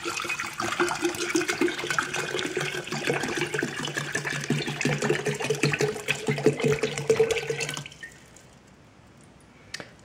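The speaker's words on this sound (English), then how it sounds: "So I'm going to fill it here, the Frigoverre, with 1 liter of water." Water pours steadily into a Bormioli Rocco Frigoverre glass jar, filling it with a liter of water, as a continuous close splashing and gurgling fill that stops abruptly near the end, leaving quiet room tone.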